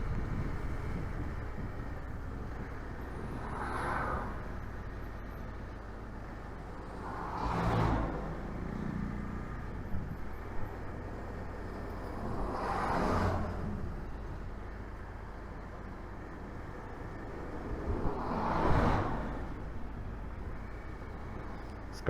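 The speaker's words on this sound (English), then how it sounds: "Continuous traffic." Vehicles pass a Hero Xpulse 200 motorcycle on a rainy Goa road, with three distinct whooshes swelling and fading at regular intervals over steady wind and engine rumble.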